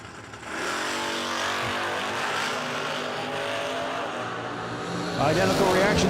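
Drag race launch of a roadster and a 1980 Camaro at a no-delay nationals event: loud, sustained engine roar that rises abruptly, holds, then swells again near the end, with crowd and track ambience.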